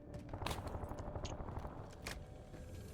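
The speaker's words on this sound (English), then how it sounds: "that was probably just a sniper in the distance" Faint, distant gunfire in Call of Duty Warzone Rebirth, rapid cracks rolling under a quiet background for a few seconds with no talking.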